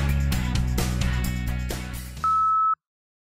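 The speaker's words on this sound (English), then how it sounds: "Now it's your turn to speak at the beep." Music fades out, then a single steady electronic answering machine beep sounds alone for about half a second before silence.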